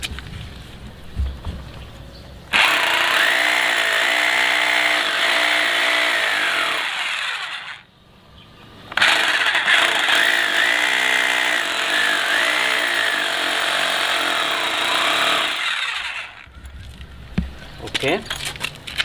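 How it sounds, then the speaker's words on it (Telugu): An electric drill fitted with an 8 mm bit bores into a wall to mount a TATA SKY satellite dish, running in two long, loud, grinding bursts separated by a brief pause. "ఇప్పుడు డ్రిల్ చేద్దాం"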